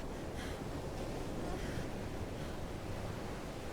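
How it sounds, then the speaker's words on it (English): Waves crash in the video game Final Fantasy 16, a soft, steady wash of surf and wind-like rushing that stays fairly faint and unbroken throughout. "that will be the waves crashing down"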